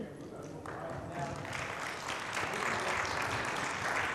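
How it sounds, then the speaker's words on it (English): Attendees at a public safety seminar on scams and fraud for seniors applaud, a full, sustained round of clapping from a roomful of people that swells slightly and holds steady. "An applause there"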